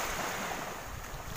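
Steady sea surf washing at Tarukan Beach on a calm day, a continuous broadband wash of waves with some wind rumble on the microphone, no voices.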